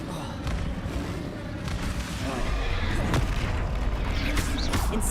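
Explosive spell blasts from the video game Hogwarts Legacy go off in a dense, continuous stream of booms and crackling impacts that grows louder midway, with a voice shouting over the combat.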